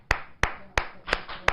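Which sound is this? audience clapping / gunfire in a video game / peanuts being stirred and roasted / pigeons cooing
audience clapping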